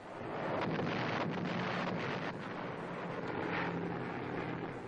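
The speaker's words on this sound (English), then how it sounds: "Trailing vapor, American bombers come over Ludwigslust in central Germany." Bombers pass overhead over Ludwigslust in central Germany during the Second World War, a broad rushing drone rising and fading with wind-like roar and no speech.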